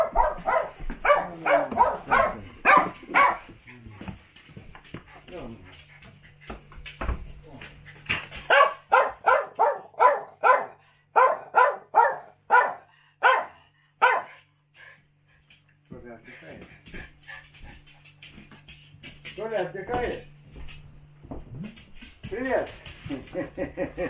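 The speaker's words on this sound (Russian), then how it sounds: "собачка." A dog on a summer walk in the Karelian countryside barks in repeated rapid bursts, fairly close and loud, with pauses between volleys, while people talk in the background.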